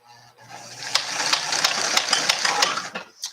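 A home sewing machine runs a steady mechanical whir in a short burst of stitches, with periodic sharp clicks punctuating the motor hum, then stops abruptly with a final clunk as it seems to catch into place.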